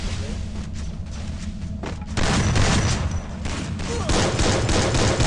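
Gunfire in the Free Fire mobile battle royale game, with dense bursts of shots and thuds that grow louder and more continuous partway through, heard alongside a player talking.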